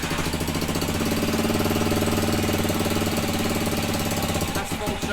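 A cheap dirt bike engine runs loudly and steadily with a rapid, knocking pulse close by. It falters and fades near the end.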